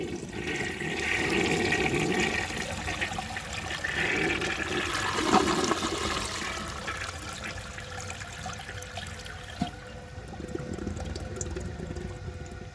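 A 1930 Eljer Sanus toilet flushes a ketchup load in one long, steady rush of water that swirls and drains loudly up close, then tapers into a quieter refill trickle.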